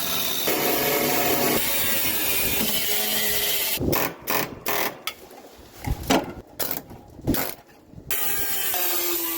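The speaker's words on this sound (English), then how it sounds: "what I'm doing is I'm just cutting right in front of that seam, trying to separate the floor pan from the firewall" Rusted metal floor pan of a 1973 Dodge Dart being cut free near the firewall seam, giving a loud, steady rasping grind that stops and starts in short bursts through the middle before running on steadily again.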